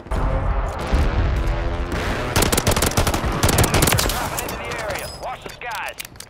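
Rapid automatic gunfire in the Call of Duty Warzone video game on the Vondel map, with dense bursts of shots and explosions, loud and close, while a player talks over the action.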